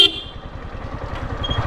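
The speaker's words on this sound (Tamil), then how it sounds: "அத்த ராத்திரி வந்து ஹார்ன் அடிச்சா எவன்டா இருப்பா?" A motorcycle horn gives one short honk at night on the road between Coimbatore and Madurai, followed by a steady engine rumble.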